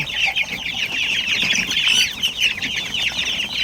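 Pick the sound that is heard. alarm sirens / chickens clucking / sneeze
chickens clucking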